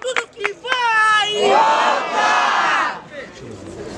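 A crowd at a student rap battle in Guarulhos shouts and cheers loudly, opening with a few sharp yells that swell into a sustained roar before dying down.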